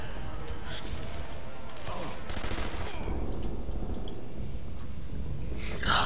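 Pistol shots and scattered gunfire in the WWII sniper game Sniper Elite V2, a few sharp cracks sitting within dense, steady battle noise and background clatter.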